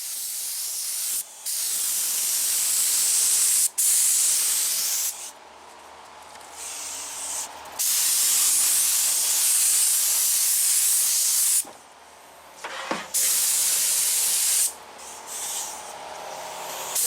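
Bursts of high build primer hiss from a spray gun onto a car's rusty trunk gutter, loud sustained blasts broken by short pauses, several passes in a row.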